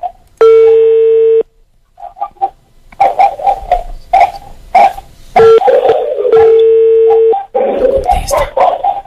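Telephone line tones sound during a prank phone call: two long steady tones with a gap between them, filled by a dog's barking and yelps.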